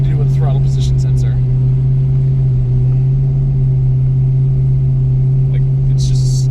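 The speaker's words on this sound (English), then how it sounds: "I'm revving it quite high accidentally" Car engine revving high and holding a steady elevated drone, as if the throttle is slightly stuck, heard loud and close with a constant tonal hum and brief faint background noises.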